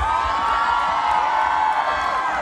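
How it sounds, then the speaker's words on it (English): A crowd at a live film music event cheers and whoops, a continuous roar of voices and shouting held at steady loudness. "ladies and gentlemen, a big round of applause"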